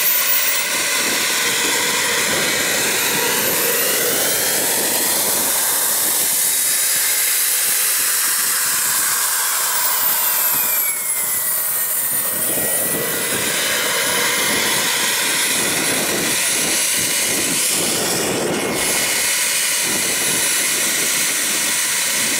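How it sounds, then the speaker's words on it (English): A P-20 mini turbine jet engine in a model F-16 runs up with a loud, sustained high-pitched whine and roaring hiss that rises and falls in pitch, heard close and without pause. "He's going to run the engine up."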